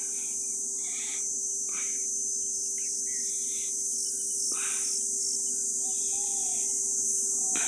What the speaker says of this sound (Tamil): இந்த மலை வண்டு கத்துறது எனக்கு ஆச்சரியமாக இருக்கும்.